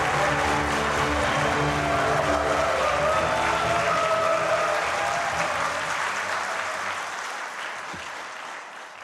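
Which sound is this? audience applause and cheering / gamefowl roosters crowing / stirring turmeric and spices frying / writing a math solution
audience applause and cheering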